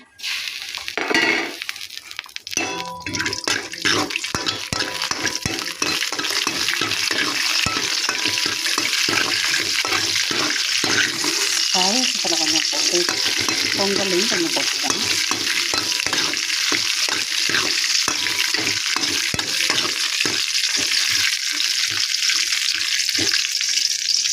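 Continuous sizzling of cashews frying in hot ghee in a pan, with occasional stirring clinks and scrapes, steady and close, no talking.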